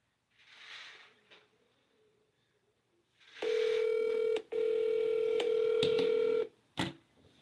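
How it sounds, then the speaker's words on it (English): Phone tones mark an outgoing call. Short touch-tone dialing beeps come first, then a long, steady ringback tone that pauses briefly and continues. It is clear and fairly loud, with a soft click before and after. "I'll call James and see where he's at"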